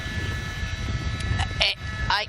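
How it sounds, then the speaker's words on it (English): A police helicopter hovers low overhead during a Los Angeles police chase, a steady droning rumble that persists throughout, with a voice speaking over it. "The police helicopter's flying a lot lower, so they're able to keep an eye on it"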